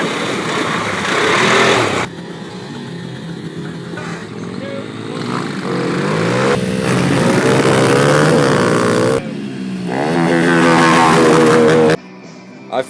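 A four-wheeler ATV engine revs up and down outdoors, loud buzzing rises and falls in several bursts with abrupt cuts, and brief voices are heard.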